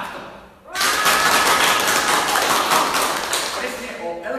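Recorded applause replayed at ten times its original loudness: after a brief quiet start, a dense, loud wash of clapping swells up and holds steady for about four seconds before easing slightly at the end.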